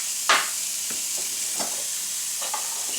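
Onions, chilli and garlic go into a pan of hot spices and sizzle and hiss steadily, with a few short scraping stir sounds over the constant frying noise.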